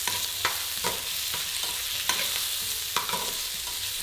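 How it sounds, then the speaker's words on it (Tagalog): Beef fat frying in a small amount of hot cooking oil over high heat for beef pares, a steady close crackling sizzle with soft rhythmic stirring clicks every half second or so, no voices. "Once na uminit na yung mantika, ilalagay ko na yung taba ng baka."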